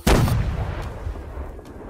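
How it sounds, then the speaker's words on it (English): A mortar fires in a Napoleonic Wars siege battle game with one heavy, close boom at the start, followed by a rumbling tail and faint distant battle noise. "If you use the mortar, you can destroy the bridge and they can't get across."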